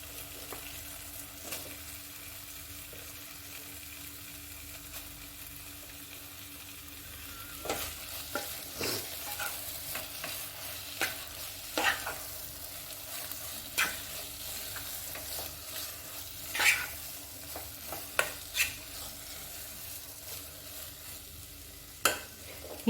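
Tomatoes dropped into hot oil for a chicken roast masala, with a soft steady sizzle and a run of irregular scrapes and clinks from stirring in the pan, and no talking.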